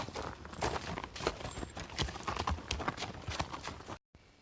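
Hooves clop steadily on hard ground as horses walk, a close, continuous rhythm of overlapping hoofbeats before a sudden cutoff.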